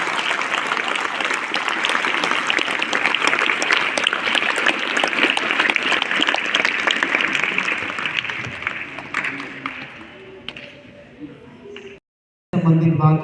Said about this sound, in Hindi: जोरदार तालियां पूज्य स्वामी विष्णुदेव जी के लिए